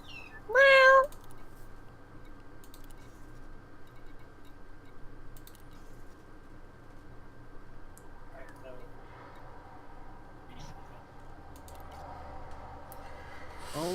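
A cat meows once, loud and close, in a mining video game, followed by quiet ticking and soft clicks under a low hum.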